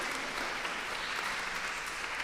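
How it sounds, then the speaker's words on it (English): An audience at a summer rush hour orchestral concert claps to honour a musician newly named to the Minnesota Orchestra, a broad, continuous patter of applause that sounds somewhat distant and fills the whole moment. "Round of applause, everybody."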